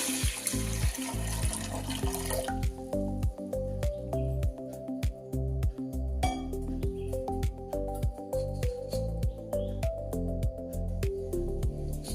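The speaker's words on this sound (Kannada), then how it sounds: "ನೀರು ಹಾಕ್ತೀನಿ ಎಷ್ಟು ಬೇಕಷ್ಟು" Water is poured into a pressure cooker holding toor dal, a steady splashing and gurgling stream that runs throughout over a rhythmic background tune.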